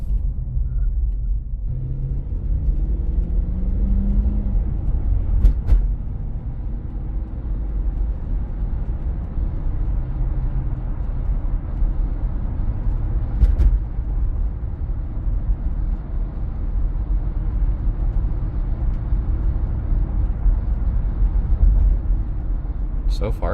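A 1999 Lexus LX 470 SUV cruises down the road, its low steady engine and tire rumble filling the cabin, with a few faint clicks along the way and no talking.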